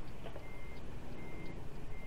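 A truck engine in American Truck Simulator rumbles steadily while a faint, repeated high beep of a reversing alarm sounds in the background.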